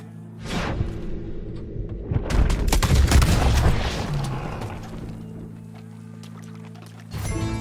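Gunfire in the video game Red Dead Redemption 2, a burst of loud booming shots clustered in the middle with rumbling low end, then a later blast near the end over a steady game music bed.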